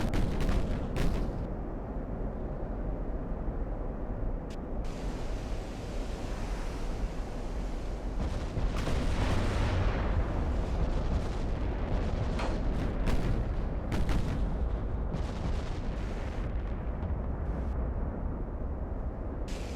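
Naval artillery from early twentieth-century warships in the Ultimate Admiral: Dreadnoughts game booms and rumbles continuously under a roaring wash of sea and wind, with heavy overlapping blasts recurring for the whole stretch.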